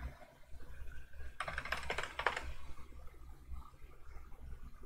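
A password is tapped out on a computer keyboard as a quick burst of clicky keystrokes, close but fairly quiet, over a low background hum.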